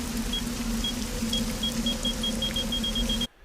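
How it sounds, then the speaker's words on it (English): A steady series of short, high electronic video game bomb warning beeps repeats over a constant low engine hum, the beeps gradually coming closer together. "You can hear there's a beep, and it goes beep, beep, beep, beep."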